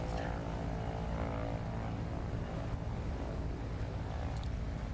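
A propeller aircraft in Microsoft Flight Simulator roars through its takeoff in an eSTOL competition, a constant loud drone of engine and prop with wind-like rush, steady and close for the whole stretch.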